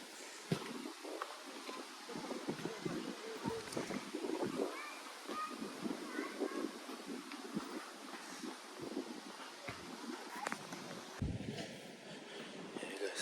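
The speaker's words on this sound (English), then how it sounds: "It's windy, cold wind, warm sun, and this is summer 2025." Cold summer wind gusting across a sunny park, buffeting the phone microphone with uneven rumbling and rustling, fairly faint and continuous without speech.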